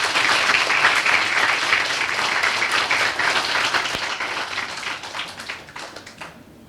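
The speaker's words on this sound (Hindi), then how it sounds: "चेयरमैन साहब के लिए भी एक बार जोरदार तालियां बजाएंगे" Loud, sustained applause from a student audience greeting the chairman at an interaction session on a Madhya Pradesh–Nagaland students' tour, dense clapping throughout that thins out near the end.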